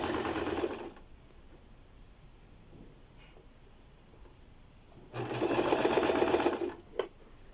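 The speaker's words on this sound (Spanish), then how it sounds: "alzamos la patilla, acomodamos la costura de hombro que nos calce con la costura de la vista, bajamos patilla y cosemos" A sewing machine stitches a shoulder seam on a blouse in two loud, close bursts of rapid mechanical whirring, separated by a quiet pause with faint handling sounds.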